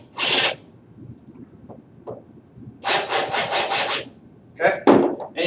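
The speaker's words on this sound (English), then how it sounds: "you can see it just countersinks that so that the head of the screw is then going to sit flush" A power drill with a countersink bit whirs in a few short bursts, biting into a pre-drilled hole in wood with a grinding rasp, with a quieter pause between them.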